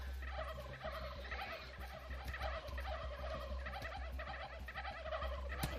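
Several turkeys in the How to Survive 2 video game gobble repeatedly in rapid rattling bursts, overlapping and fairly loud over a constant low game rumble.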